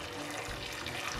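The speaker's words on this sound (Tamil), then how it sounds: "இதில் வந்து சுடுதண்ணி போட்டு நம்ம ஓவர் நைட் வந்து இதை சோக் பண்ண போகிறோம்." Hot water pours steadily from a container over dates in a bowl to soak them, a short continuous splashing rush at close range.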